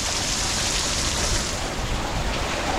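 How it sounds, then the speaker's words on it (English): Heavy rain during Hurricane Milton pours down in a dense, steady roar outdoors, loud and unbroken throughout with no other sounds standing out. "it's a wee bit rainy"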